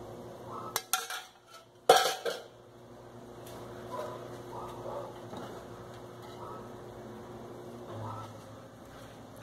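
A utensil stirs a homemade soap mixture of sugar and water in a container, with a few sharp clinks and scrapes early on and then a faint, steady swishing.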